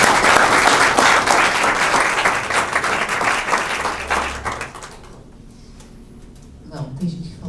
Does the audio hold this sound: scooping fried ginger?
no